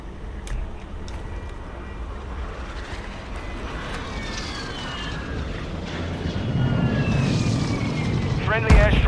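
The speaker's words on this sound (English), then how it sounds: "Friendly airstrike in the AO." Airstrike in a multiplayer video game: a sustained roar of jet aircraft passing overhead builds in loudness, with a sharp impact near the end, layered over steady game noise.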